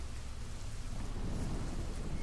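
Steady rain falls with a continuous low rumble of thunder underneath, dense and even throughout, with no voices.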